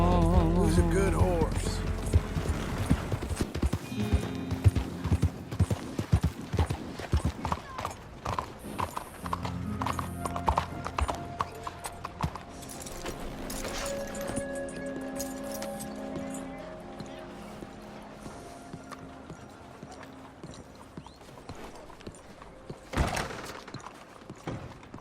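Horse hooves clip-clop in the Red Dead Redemption 2 video game, a loud rhythmic walking gait up close with clinking tack and a brief whinny, while voices talk over it.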